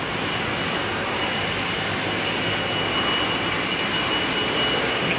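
An Airbus A340-300 jet takes off at Heathrow Airport with a loud, steady broadband engine roar that holds constant, close and unbroken.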